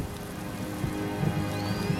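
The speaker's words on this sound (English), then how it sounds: "Wow, there's that rain you were talking about." Rain falling in a cartoon scene, a steady hiss of drops with soft irregular patters close by and a faint tonal background underneath, no voices.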